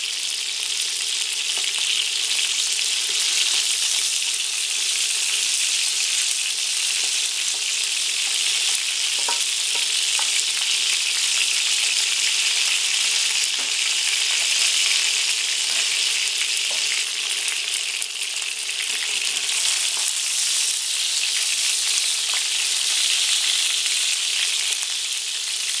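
Onions fry in a pan for Greek stifado, a constant bright sizzle and crackle running steadily throughout with occasional stirring clicks, close and uninterrupted.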